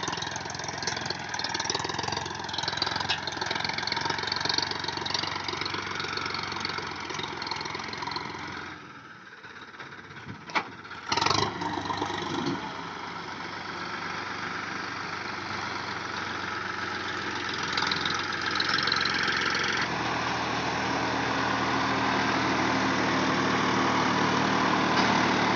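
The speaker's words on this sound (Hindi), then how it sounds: "प्लाउ नहीं होने के कारण ट्रैक्टर माटी ज़्यादा नहीं खींच पा रहा है, क्योंकि पीछे वजन नहीं है इस वजह से।" A Sonalika or Swaraj tractor engine runs steadily while working a field without a plough, a loud continuous rumble that dips briefly and returns to a constant drone.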